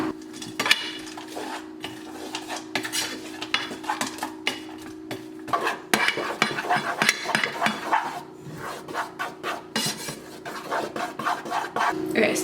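A utensil stirring melting chocolate in a pan over low heat, steady scraping and clinking strokes repeating close up throughout, with a low hum underneath and no talking.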